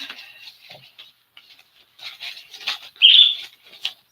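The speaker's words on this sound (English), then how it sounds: "Sorry, bird, don't be squeaking." A pet bird gives a few short, bright squeaks and chirps up close, the loudest burst near the end, with faint fluttering and light rustling between calls in an otherwise quiet indoor room.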